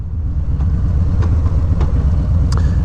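Low, rumbling engine note from a Harley-Davidson Low Rider S motorcycle while riding at highway speed, a steady deep drone with wind rush and a few faint clicks and ticks above it.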